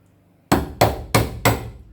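A chisel is struck four times in even succession while cutting pockets into an external stair string, each a sharp, close wooden knock.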